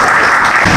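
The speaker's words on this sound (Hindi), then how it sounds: "तो भरपूर तालियों में सुहेल मेमन भाई।" Dense, steady applause fills a short burst from an audience at an aviculture club bird society gathering, loud and continuous without talk.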